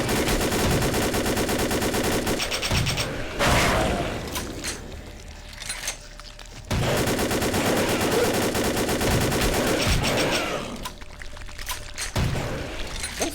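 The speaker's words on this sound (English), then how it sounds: "I didn't know this was an automatic weapon." Automatic weapon fire in Vampire the Masquerade Bloodlines, loud rapid bursts with a short pause between them, punctuated by heavier impacts, with no talk over it.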